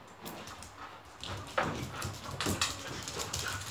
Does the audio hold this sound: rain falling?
no